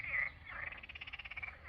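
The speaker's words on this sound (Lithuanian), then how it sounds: "Varlės kurkia." Frogs croaking beside a river in Latvia in early June, a quick pulsing rattle of croaks following a single opening call, fairly faint and outdoors.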